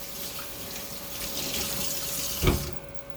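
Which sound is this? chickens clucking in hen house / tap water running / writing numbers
tap water running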